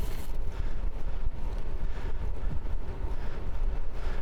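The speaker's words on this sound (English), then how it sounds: "Oh, there's a little bit of wind today." Wind buffeting a microphone on a morning bicycle commute on Vancouver Island: steady low rumbling gusts with fluttering noise, constant and fairly loud for the whole stretch.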